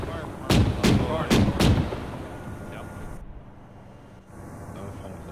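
Four heavy gunshots from the military video game Arma 3 boom out in quick succession near the start, followed by rumbling ambient noise and faint background sounds.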